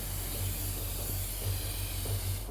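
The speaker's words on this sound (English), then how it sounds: "Rattle the spray can." A spray can is shaken and sprayed in the video game Infamous Second Son, giving a steady loud hiss with a faint rhythmic rattle underneath for a few seconds, with no talking.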